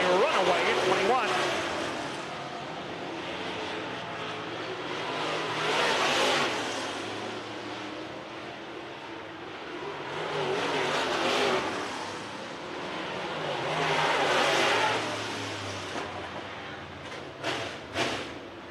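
Late model race cars circle a dirt track during a heat race in Estevan, Saskatchewan, their engines swelling and fading in repeated waves as they pass, with an announcer talking over the roar.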